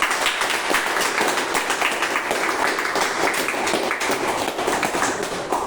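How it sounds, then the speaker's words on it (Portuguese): A church congregation applauds during a Portuguese-language worship service, a dense, continuous wash of clapping that stays loud and even for several seconds with no voice rising above it. "Podemos dar uma salva de palmas para Deus?"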